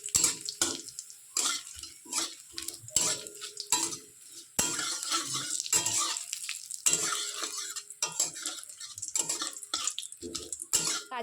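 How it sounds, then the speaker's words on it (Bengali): Stirring and frying in a pan while cooking basanti pulao, a sweet yellow Bengali rice dish: a spoon scrapes and clatters repeatedly against the pan over a steady close sizzle, with no talking. "ভালোভাবে নেড়েচেড়ে একটু ভেজে নেব।"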